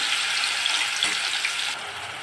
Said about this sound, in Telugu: ఇప్పుడు ఈ మసాలా నూనెలో ఫ్రై అవుతూనే ఉంటుంది.